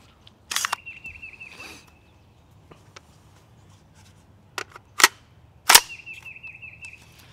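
A Kel-Tec PLR-16 pistol fires sharp, isolated reports with ringing echoes, a couple of shots spaced apart amid quiet handling noise between them.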